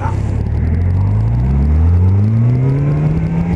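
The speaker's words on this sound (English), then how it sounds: "Lots of traffic today." Road traffic near a rest area by the LBJ Historic Park: a steady loud engine rumble with a rising whir as a vehicle accelerates past close by, no talk.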